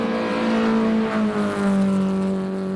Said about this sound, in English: Just wonderful to hear the sounds of these cars going up this hill as well.